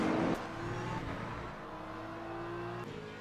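A BMW GT3 race car engine screams along the Circuit de la Sarthe in the Le Mans Ultimate racing game, a loud sustained onboard drone with a sharp upshift near the start and steady pitch climbing afterward.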